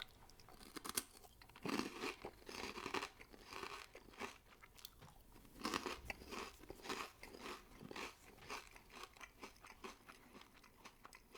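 Hawkins Cheezies are crunched and chewed close up in a steady series of crisp bites and grinding chews, with occasional bag crinkling between mouthfuls.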